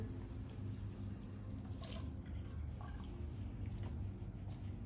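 Water runs steadily to rinse something off after an acid treatment, a continuous close flow with faint drips and splashes on top.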